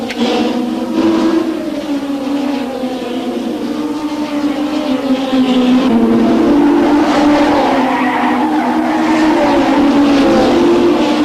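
Race cars, including a red Ferrari, roar past on the Long Beach street circuit, a loud continuous engine wail with rising and falling pitch as they jostle for position, with no talk.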